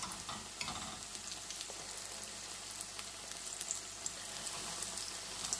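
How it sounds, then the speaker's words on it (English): Oyster mushrooms frying in hot oil give off a steady, dense crackling sizzle with scattered sharper pops, fairly quiet and continuous throughout, with no voices. "we're gonna allow these to fry"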